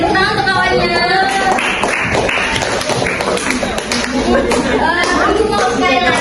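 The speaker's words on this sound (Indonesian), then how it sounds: "Tepuk tangan untuk kawannya." Scattered clapping from children in a classroom applauding a classmate, light and uneven, heard under lively chatter and voices throughout.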